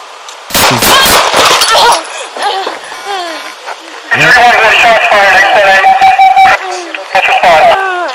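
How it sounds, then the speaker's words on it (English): Gunshots captured on a police body camera during a confrontation with a person holding a knife, loud sharp bursts mixed with shouting and radio chatter, chaotic and close. "Shots fired."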